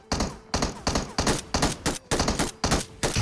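Rapid gunfire from an MK14 rifle in PUBG Mobile, about ten sharp, loud shots at a quick, even rhythm, each with a short ringing tail, with no voices.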